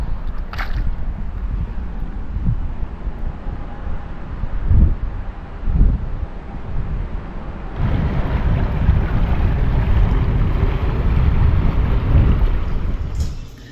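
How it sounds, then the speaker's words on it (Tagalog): Strong wind buffets the microphone outdoors by the water, a constant low rumble with gusts that swell louder partway through, alongside a faint hum like a nearby boat. "Malakas na rin po ang hangin."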